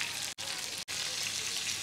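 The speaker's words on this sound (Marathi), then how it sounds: "बघा आता आपली फिश मस्तपैकी फ्राय झालेली आहे, कुरकुरीत" Bangda mackerel fish fries in oil on a tawa with a steady, close, loud sizzle, broken by two brief gaps, with no talk.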